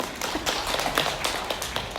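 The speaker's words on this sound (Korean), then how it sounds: "박수 주세요." Audience clapping during a spiritual lecture by a Catholic priest, a dense, even patter of many hands filling the room at a steady level for a couple of seconds.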